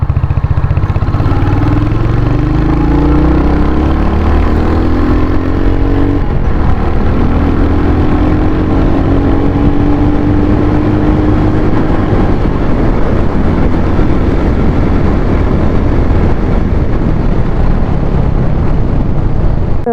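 A modified 2024 Royal Enfield Hunter 350 motorcycle cruises on an open road, its engine giving a loud, steady drone. Heavy wind rush runs throughout, and there is no talk.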